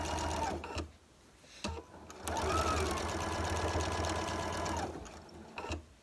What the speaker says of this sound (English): we are going to do that 1/4 inch seam, needle down, pedal to the metal